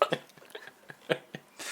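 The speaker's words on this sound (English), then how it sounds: "I have to stop these hiccups" Several short, quiet hiccup-like bursts come at uneven intervals from one person. Breathy noise follows at the end.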